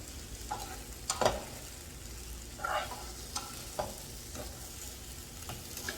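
Battered fish jeon pancakes sizzle steadily in a frying pan while a utensil flips and taps them, giving irregular clicks and scrapes over the continuous frying hiss.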